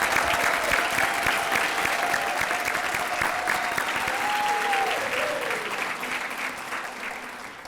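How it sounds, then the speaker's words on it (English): An audience at the Arlington ISD Teacher of the Year banquet applauds loudly and steadily, a dense crowd of clapping hands that holds for several seconds and then eases off slightly at the end. "Let's give them a big round of applause."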